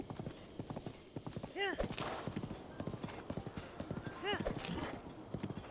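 Horse hooves clip-clopping at a steady riding pace in Zelda: Breath of the Wild, with a couple of neighs, under someone talking throughout.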